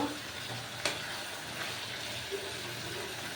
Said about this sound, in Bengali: এখন আমি একটু নেড়ে চেড়ে দিব।